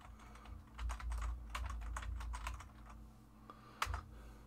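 Keys clatter on a computer keyboard in quick, uneven bursts of close typing, with a steady low hum underneath and one sharper key strike near the end.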